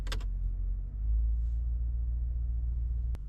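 A Mercedes-AMG G63 with a 586 hp engine idles with a deep, steady low rumble heard from the cabin, swelling slightly after a drive-mode change, with a brief click near the end.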